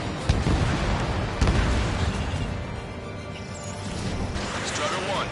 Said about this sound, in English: Strider 1, missile launched. All enemy bombers have been destroyed.